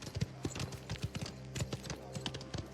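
Horse hooves clip-clop on a street in the Mafia video game, a steady run of close, crisp knocks over a low background hum.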